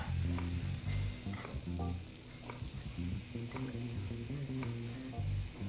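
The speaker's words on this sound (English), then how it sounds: "We're going to use the deep fryer. It should already be turned on." Fries sizzling in a deep fryer in Chef Life, a steady crackling fry with knocks and clinks of kitchen handling over it.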